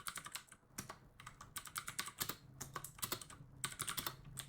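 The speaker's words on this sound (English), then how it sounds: "You can probably hear the keyboard." Rapid, uneven clusters of crisp key clicks from a computer keyboard go on steadily throughout, fairly close, with short pauses between bursts and no talking.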